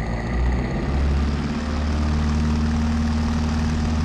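Propeller aircraft engine running at full power, a loud steady low-pitched drone with a constant hum, close and continuous with no talk.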